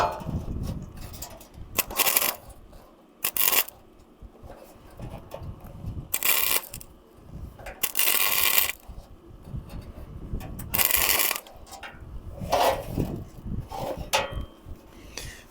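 Tack welding metal parts into position: several loud, crackling bursts of arc noise of a few seconds each, separated by quieter pauses with handling clatter.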